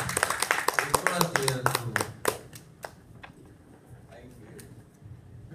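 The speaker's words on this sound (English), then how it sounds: "A round of applause for you." A small Toastmasters meeting audience claps briefly, a handful of distinct sharp claps in quick rhythm that fade out after about three seconds, with talk overlapping.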